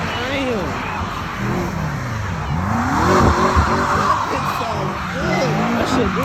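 BMW M5 skidding in snow at a car meet, with tires squealing in sweeping waves over engine revs, close and loud, while onlookers talk and shout.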